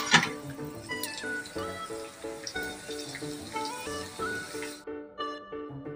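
Dal tempering of cumin, garlic and curry leaves sizzling in hot oil, a steady frying hiss with soft crackles and faint tonal clatter, close and moderately quiet, no talking.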